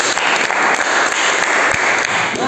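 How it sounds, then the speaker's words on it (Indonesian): A classroom of students applauds, a dense continuous patter of clapping at steady volume filling the whole moment, without speech. "Tepuk tangan dulu"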